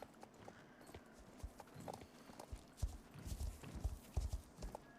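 A Lusitano horse in the video game Star Stable clip-clops along with quiet hoofbeats in an uneven walking rhythm, faint and unaccompanied by talk.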